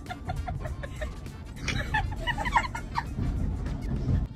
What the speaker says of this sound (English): we got some birds